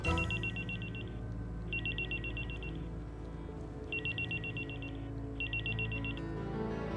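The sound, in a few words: telephone ringing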